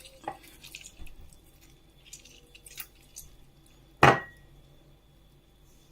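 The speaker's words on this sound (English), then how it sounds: "Squeeze out the juice." Juice squeezed by hand into olive oil gives soft wet squishes and drips, scattered and faint, then one sharper close squelch near the end.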